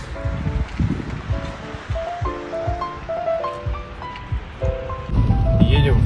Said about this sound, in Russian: Сильный дождь.